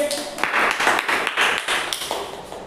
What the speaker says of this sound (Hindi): चलिए विपास के ताली बजा दीजिए।